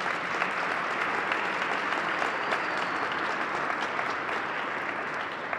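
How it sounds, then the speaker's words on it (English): Steady, dense applause from a large crowd at a Three Kings celebration fills the space evenly from start to finish, loud and sustained with no break. "Please let's give them a round of applause for everything they did today."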